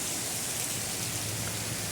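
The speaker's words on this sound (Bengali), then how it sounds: "মনের মতো বৃষ্টি হয়েছে" Heavy monsoon rain falls in a steady, dense hiss with no pauses, close and loud, with no voices.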